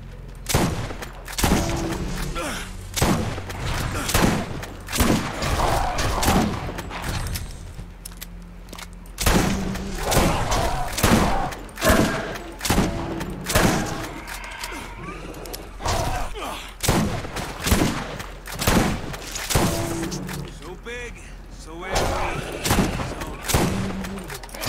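Shotgun blasts in the Borderlands video game: heavy booming shots fire in rapid, irregular succession over a continuous loud wash of combat noise, with thuds and impacts crowding the sound throughout.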